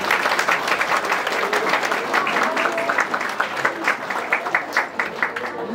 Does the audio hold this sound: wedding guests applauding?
yes